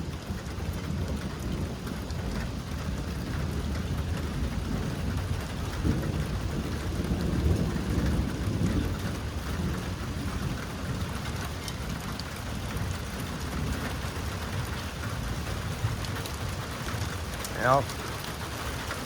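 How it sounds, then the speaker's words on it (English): Heavy rain pours steadily through a thunderstorm, with low rumbling thunder rolling underneath and a brief sharper crackle near the end, heard at a modest, even level. "Rain's coming down now."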